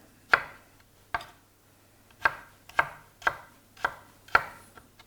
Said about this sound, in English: So the onion, the garlic, the potato will cut a bit bigger, probably like thickness like that, and into cubes.